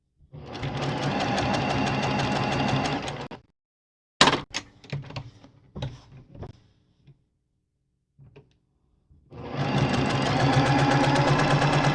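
A sewing machine stitches a floss wallet in two steady, close, buzzing runs, separated by a pause filled with clicks and handling knocks.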